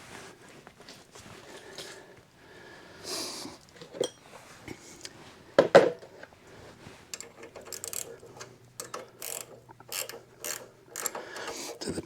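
Ratchet work tightening the rear wheel of a 1951 Harley-Davidson Panhead during a chain replacement, giving quiet scattered metallic clicks and clanks with a few sharper knocks, close by and alone.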